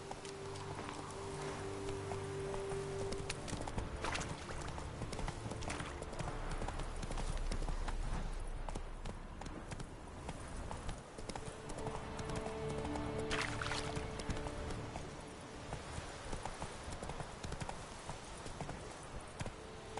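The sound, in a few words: horse Roach galloping, hooves clip-clop, video game The Witcher 3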